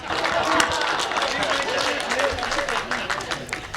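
An audience at a Hindi comedy poetry gathering (hasya kavi sammelan) breaks into applause, a dense, even clapping that carries on for several seconds over murmuring voices.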